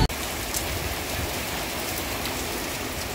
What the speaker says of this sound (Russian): Тропический дождь начался.